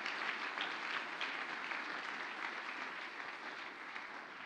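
A church congregation applauding during a worship service, a dense, even wash of clapping from many hands that fades slightly toward the end, with no voices.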